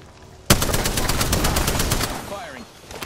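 Sustained automatic gunfire in the Apex Legends shooter, a rapid burst of evenly spaced loud shots that starts abruptly and rattles on for a couple of seconds before tapering off near the end.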